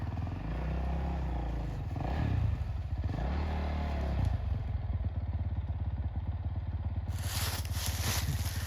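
A Kayo K2 230 dirt bike engine labours up a rocky hill, loud and close, with rising and falling revs and a steady pulsing throb, plus clatter from the rocks.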